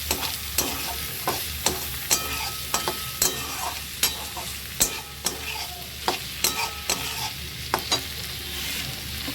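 Tomatoes and green chillies fry in a pan under a steady sizzle, punctuated by crisp, regular taps and scrapes of a spatula stirring close up, with no one talking.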